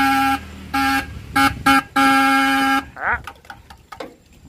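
The original horn on a Hyundai Verna car blares in four loud, steady blasts of uneven length, the last one held longest. Quieter speech and handling sounds follow.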